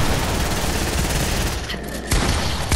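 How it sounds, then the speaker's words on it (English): Shotgun fire in a fast-paced multiplayer video game: dense, loud bursts of gunfire crowd together, followed by a few sharper separate blasts near the end, with no talking. "Shoot the wall and switch your shotgun."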